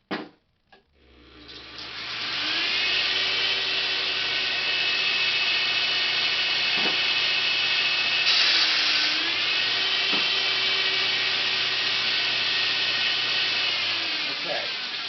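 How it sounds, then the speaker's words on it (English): A full-featured belt grinder that takes 1-inch or 2-inch belts whines steadily at high pitch after a clunk at start-up, a few brief changes in pitch as it runs, with no talk over it. "This belt grinder can run 1-inch or 2-inch belts."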